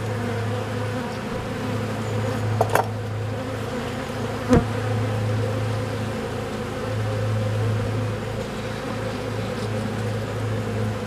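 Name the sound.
bees buzzing around hive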